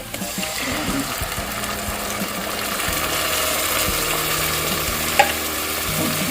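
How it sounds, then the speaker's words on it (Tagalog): Coconut milk goes into a hot pan and is stirred, giving a steady soft sizzle and bubbling with light scraping and one small clink, close by. "Lagyan na natin tong gata."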